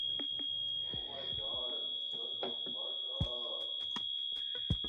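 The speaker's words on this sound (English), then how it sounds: "Damn fire alarms. It's like fire alarm testing day" A building fire alarm under testing sounds a steady, high continuous tone that runs through the whole stretch while people talk over it.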